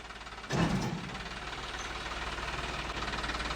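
A steady, low tractor diesel engine chugs at idle with a rhythmic knock, briefly louder at the start as it revs.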